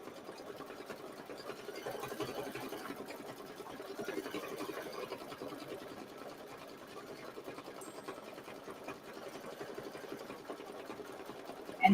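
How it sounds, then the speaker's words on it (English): Embroidery machine sewing a zigzag underlay for satin-stitch lettering on a mini quilt, a steady, fast mechanical whir and needle chatter running evenly and continuously at close range without any voices. "Now it's doing a zigzag underlay for the satin stitching."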